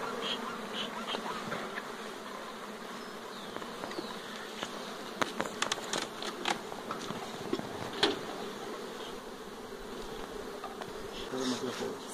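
Honeybees buzz steadily around an open, weakly populated hive while its frames are inspected, a dense continuous hum with individual bees passing close, plus a few faint knocks from handling the frames.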